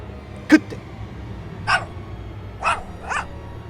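A pet dog barks from inside a house near a locked balcony door, giving four short, sharp barks spaced about a second apart with quiet gaps between them.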